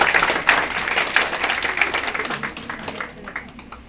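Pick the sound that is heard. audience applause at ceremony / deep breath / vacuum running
audience applause at ceremony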